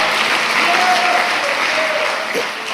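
A church congregation applauding during a Sunday evening service, steady dense clapping from many hands filling the room, loud and continuous, with faint voices mixed underneath.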